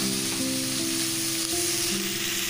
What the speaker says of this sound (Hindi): इसी में लहसुन और अदरक बारीक कटा हुआ, इसको हम अच्छी तरह से भून लेंगे, मसाले को ब्राउन होने तक